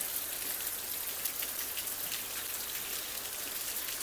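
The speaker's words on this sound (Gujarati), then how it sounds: "ફેમિલી ફાઇનલી વરસાદ આવી ગયો છે" Monsoon rain falling steadily in a village in Gujarat, a dense even hiss with scattered drops tapping on nearby surfaces, continuous and moderately loud with no voices.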